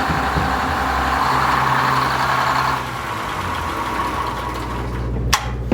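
A salmon tender boat's engine drones with a low rumble throughout, a mechanical whine dropping away partway through, ending with a sharp click as it shuts off.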